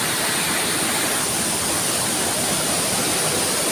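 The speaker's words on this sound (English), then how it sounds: "The 7th Waterfall." The 7th Waterfall in Mambercal, Philippines roars as a steady, loud rush of falling water, with dense broadband noise running unbroken from start to finish and no voices.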